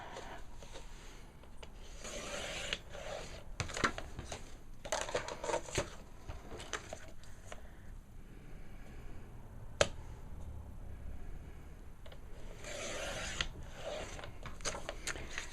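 Eight-inch paper squares for a scrapbook page cut in half at the 4-inch mark: quiet, intermittent sliding and scraping strokes with a few sharp clicks, close by and without talk.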